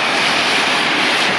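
Air arc gouging on the blade of an 850J dozer gives a loud, close, continuous roaring hiss that stays constant throughout.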